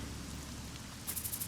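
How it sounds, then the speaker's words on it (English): Steady rain hisses over a scene in the video game Troubleshooter: Abandoned Children, a soft, even wash of falling drops. Near the end it is joined by a string of light, regular high ticks. "It's been raining pretty bad today"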